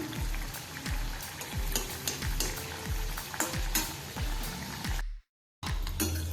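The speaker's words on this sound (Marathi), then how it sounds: "त्याच्यामध्ये आता ह्या आपण पुऱ्या मस्तपैकी अशा खुशखुशीत तळून घेऊया" Methi moong dal masala puris frying in hot oil, a loud steady crackling sizzle with a repeated low thump roughly every half second, cut by a brief silent gap near the end before the sizzling resumes.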